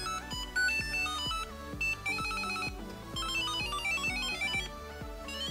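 A bright, cheerful electronic jingle from the 1983 game Mario's Bombs Away plays a quick run of beeping notes over a steady bouncy beat, fairly quiet.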